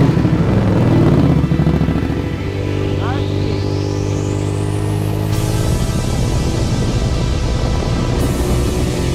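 A Harley-Davidson motorcycle rides through the streets of Portland, Oregon, its engine rumbling loudly and steadily throughout with a rising whine as it gathers speed, while a voice talks over it.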